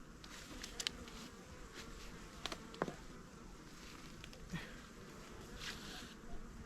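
Honey bees hum in a low, steady drone close by during queen replacement in swarms, with occasional soft knocks and rustles on top.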